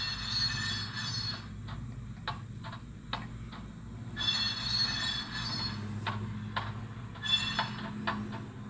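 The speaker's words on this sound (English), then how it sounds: "you're hearing the clickety clack and the flange squeal" Model railroad freight car rolling along the track, with a steady low rumble and repeated clickety-clack rail joint ticks plus a high metallic flange squeal, heard close and alone without talk.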